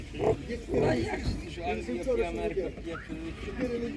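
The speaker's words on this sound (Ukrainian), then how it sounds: "Такі поросятка." Piglets grunt and squeal in a close, busy cluster at a livestock market in Ivano-Frankivsk Oblast, Ukraine, with people talking over them throughout.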